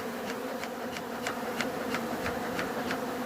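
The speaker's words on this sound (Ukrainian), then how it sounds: "намагаюся відлякувати бджіл, які крадуть мед" Robber bees swarm around hives under attack, giving a dense, continuous buzzing drone with faint regular ticking pulses, steady and fairly close throughout.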